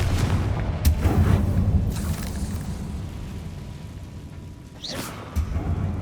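A Confringo blasting spell explodes in Hogwarts Legacy with deep, rumbling booms, a heavy blast at the start and another burst near the end, over a continuous low roar.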